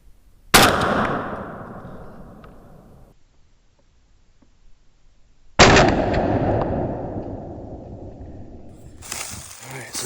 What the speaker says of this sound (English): We'll take one more shot, and I think we're going to call that gun ready to go.